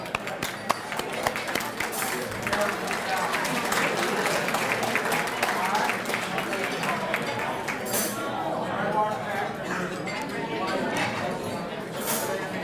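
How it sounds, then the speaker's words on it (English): Sustained applause from an audience at a Centerville volunteer celebration evening, dense steady clapping filling the room for about twelve seconds with crowd murmur mixed in. "How about a good round of applause for Darren Bell?"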